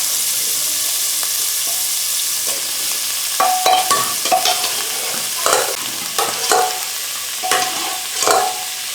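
Chinese potatoes (koorka) stir-fry in a pan with salt and turmeric, giving a steady hiss of sizzling oil broken by intermittent scraping and clattering stirs, close and fairly loud, with no voices.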